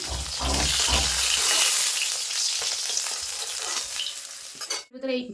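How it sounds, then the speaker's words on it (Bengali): Loud, continuous sizzling of fish frying in hot oil, with a brief voice at the very end. "এই মাছগুলো ভেজে নেবো"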